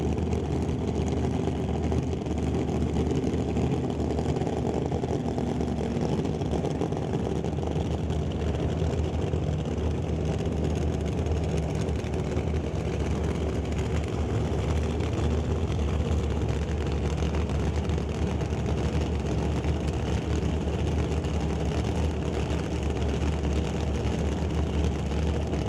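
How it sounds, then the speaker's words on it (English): Ford Mustang drag cars at an NHRA Northwest National Open Series event, steady low engine rumble and idle as they back up after burnouts, continuous and fairly distant with no talk. "A couple of Mustangs getting themselves backed up."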